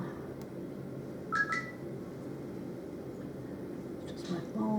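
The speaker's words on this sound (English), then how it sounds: "Just my phone, somebody's posting on Facebook." A smartphone notification sounds during light-fixture and trim work in a farmhouse, two brief soft chimes a few seconds apart over a steady room hum.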